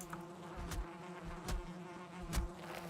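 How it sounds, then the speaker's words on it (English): Bees buzz steadily and continuously in the game Valheim, a dense insect drone with a few soft thumps scattered through it. "There are bees in this house. I can hear them."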